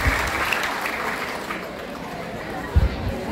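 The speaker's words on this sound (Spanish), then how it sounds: "Un aplauso para ella." A crowd applauds a mayor at a Christmas food-basket handout in Tierra Blanca, a steady mass of clapping with some chatter mixed in and a couple of thumps near the end.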